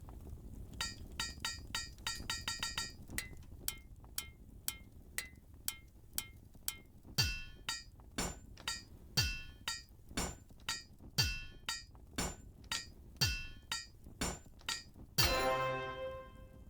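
Rhythmic hammering in the Bits & Bops video game minigame: a run of quick metallic taps, then evenly spaced louder thuds each followed by a short downward-swooping tone, ending in a bright ringing clang, all over a soft musical backing.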